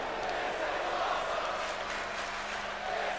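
A Monday Night Raw arena crowd in WWE 2K24 cheers steadily during a Bayley versus Asuka match, a continuous dense roar with no clear breaks.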